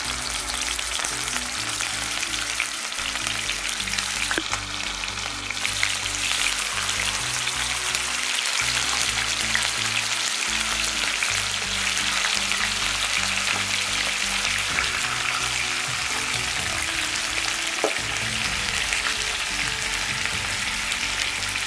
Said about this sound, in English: So I'm just going to take this and place them in the pan for them to pan fry.